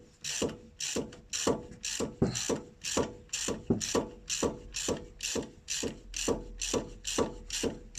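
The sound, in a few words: ratchet tightening brake caliper sliding bolts on a Ford Fiesta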